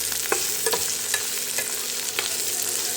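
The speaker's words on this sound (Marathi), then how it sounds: "हे तेल गरम झालं आहे, ह्याच्यामध्ये मी कांदे टाकते" Sliced onions in hot oil in a home kitchen, giving a steady, close, loud sizzle with a few soft stirring scrapes.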